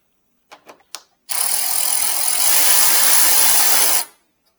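Ratchet tightening screws on a Toyota Tundra headlight, a few short clicks first, then a sustained loud whirring burst lasting nearly three seconds close by, stopping abruptly.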